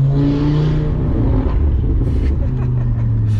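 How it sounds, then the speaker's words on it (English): An Audi RS3 fitted with a custom Padsfab turboback exhaust idles loud and close, with a low steady drone and a brief throttle blip, while someone talks over it. "If I bring it up to 3k, when it opens, it just sounds sick"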